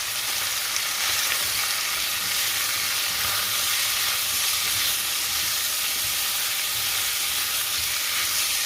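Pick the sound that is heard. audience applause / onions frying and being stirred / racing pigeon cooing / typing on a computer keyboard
onions frying and being stirred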